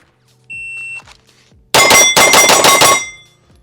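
A string of rapid gunshots from a pistol in a shooting drill, about seven sharp cracks in quick succession, loud and close, following a shot timer's beep.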